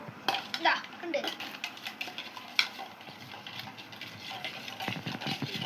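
Utensils scraping and clinking against a pot as a thick batter is stirred for Dora yaki, steady rhythmic scrapes with small metallic knocks, fairly quiet, with some background chatter from a child.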